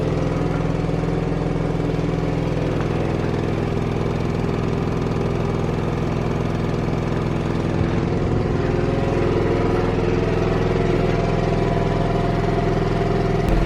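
An Onan Cummins QG 2500i LP propane RV generator runs steadily under a 1500 watt heater load, a loud, even low engine drone heard from about fifteen feet away with no break.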